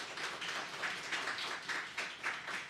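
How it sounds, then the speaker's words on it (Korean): A church congregation at Sunday worship gives a short round of applause as a blessing. The clapping sounds soft and distant, coming in loose rhythmic bursts throughout. "축복의 박수 한번 부탁드리겠습니다."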